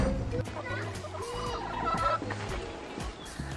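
A hen clucks softly in low, repeated clucks close by, with scattered rustling and thumps around it.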